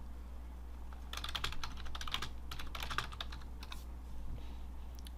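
Someone types a chat message on a computer keyboard, a quick run of light key clicks in bursts over a steady low hum.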